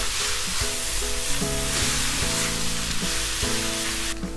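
Noodles are mixed into sizzling masala in a hot pan, a steady loud sizzle with scraping stirs from a utensil, close up and no voices.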